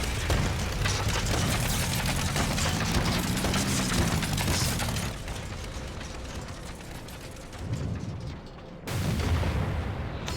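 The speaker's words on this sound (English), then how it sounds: "He just died in that explosion." In an Alexander raid boss fight in a video game, heavy booming blasts roll out continuously with dense crackling and rumbling, then ease off and surge again in loud bursts near the end.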